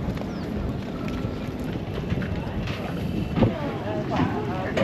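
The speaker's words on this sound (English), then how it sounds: "We're on the boat about to head out to sea" Boat engine and water noise with wind buffeting the microphone as a boat heads out to sea in Fiji, steady and fairly quiet, with voices talking over it.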